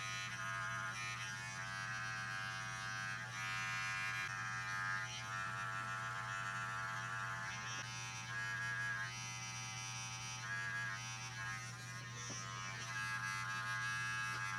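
A Wahl detailer hair trimmer buzzes steadily while edging a haircut, a continuous faint electric hum with small shifts in tone as the blade moves, no voices.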